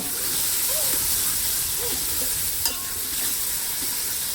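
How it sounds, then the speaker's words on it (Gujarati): Onion frying in a pan for a crab dish, a steady broadband sizzle with soft scraping stirs throughout and one sharp utensil click midway; faint voice traces underneath. "હવે મિત્રો આપણે ડુંગળી એડ કરી દીધી છે."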